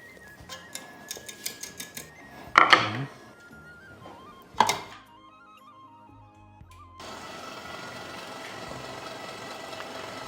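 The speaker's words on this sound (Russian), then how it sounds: "А дальше мне поможет тестомес." An electric dough mixer starts up and runs with a steady mechanical whir after clicks and a couple of loud clunks, mixing a flour dough for a Tatar dish.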